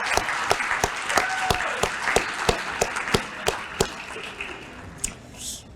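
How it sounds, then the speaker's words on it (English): At an annual dinner, sparse applause for Mike comes as a string of distinct, sharp handclaps at a fairly regular pace from a small group, thinning out and fading toward the end. "Can everyone just give Mike a round of applause for like 5 seconds?"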